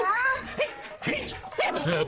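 A dog barks and whimpers in a dubbed film scene, its yips and whines rising in short bursts over about two seconds, mixed with a background score and some voice.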